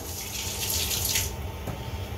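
Water running and splashing as it is poured off salmon into a sink, a steady close pour that tapers off near the end, with no talk.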